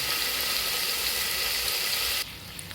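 Biryani masala for a Dindigul Thalappakatti-style seeraga samba dum biryani fries in groundnut oil with a steady, loud, close hiss that cuts off sharply near the end, leaving a quieter sizzle.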